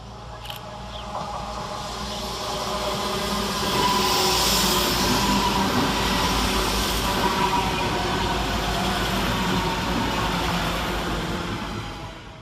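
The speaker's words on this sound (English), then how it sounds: "Next to arrive into the station, 172-212 and 172-217, with the 1221 West Midlands Railway service" A pair of Class 172 diesel railcars pulls into Birmingham Moor Street station nearby, engine throbbing and wheels rumbling, the noise swelling and holding steady as it rolls alongside.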